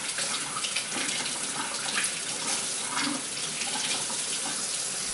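Tap water runs steadily from a faucet into a sink as vegetables are washed for a corned beef and cabbage boiled dinner, a continuous broadband splashing rush held at even level throughout, with no talking.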